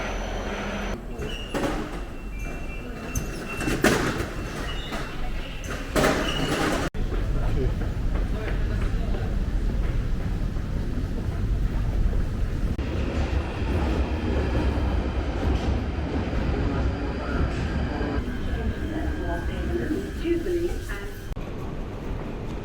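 A London Underground train rumbles and rattles on the tracks near Warren Street with clattering bursts and door sounds, while voices talk over the steady roar.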